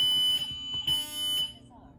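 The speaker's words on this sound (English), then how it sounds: "And that silences the alarm system." A Ring home alarm system siren sounds in loud shrill pulsing bursts indoors, then cuts off abruptly as it is silenced.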